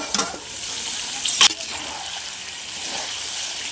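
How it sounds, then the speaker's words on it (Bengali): Water is poured into a pot of browned chicken curry with fried potatoes, a close, brief splashing trickle with a sharper burst midway, then a steady soft liquid hiss. "এবার আমি জল দিয়ে দেবো আসতে আমি জল দিয়ে দিলাম"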